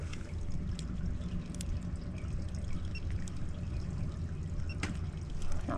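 Water flows steadily through a clogged main sewer drain pipe, a continuous rushing trickle with faint clicks and ticks, moderately quiet and without speech.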